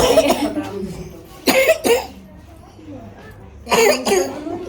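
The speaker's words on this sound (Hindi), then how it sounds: "खांसी हो रही बेटा, बहुत तकड़ी वाली।" Several harsh, wet coughs in short clusters, close by, with a person speaking between the bouts.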